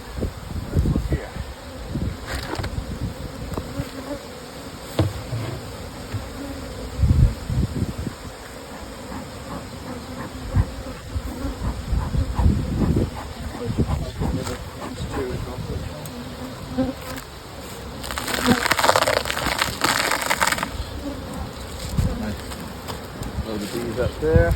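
Honey bees buzz around an open hive during a brood chamber inspection, a constant close droning hum with swells and passing individual bees, mixed with occasional rustling and handling noises; a voice speaks at times.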